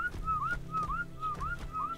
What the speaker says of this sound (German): Ah, das ist der Pfiff-Command